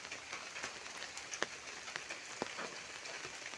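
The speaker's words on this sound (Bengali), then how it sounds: "মানে একটানা 3 দিন ধরে বৃষ্টি হইতেছে।" Rain keeps falling steadily during a rainy spell, making a soft, continuous patter with occasional sharper drips standing out, faint and distant-sounding.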